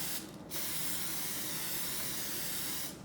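Cooking spray hisses onto a waffle iron in a long, steady, close burst of broadband spray. A brief start comes just before it, and the sound cuts off near the end.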